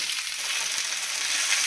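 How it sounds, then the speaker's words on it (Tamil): Mango pieces sizzle steadily in a hot pan as they are sautéed for a sweet mango pachadi, a close, continuous hiss with faint stirring. "இப்போ மாங்காய் போடுறோம். இப்போ மாங்காயை ஒரு வதக்கு வதக்கிக்கலாம்."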